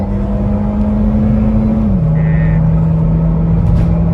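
A Honda Freed accelerating on E20 fuel after a remap tune, heard from inside as a loud, steady engine drone that shifts pitch once during the pull.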